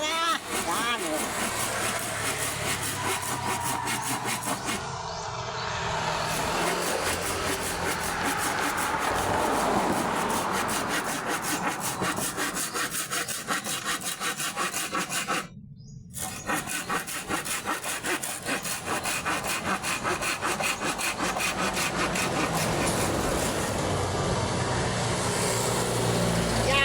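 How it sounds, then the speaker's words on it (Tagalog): Continuous rhythmic hand sawing through wood, close and loud, with rasping back-and-forth strokes and one brief pause midway. "tuloy lang ang lagari."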